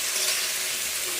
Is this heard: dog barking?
no